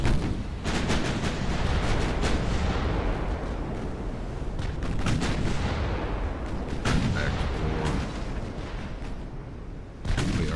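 Warship turrets fire in Ultimate Admiral: Dreadnoughts, with French ships of 1890. Heavy, booming shots crack out again and again at uneven intervals over a loud, rumbling din of continuous battle.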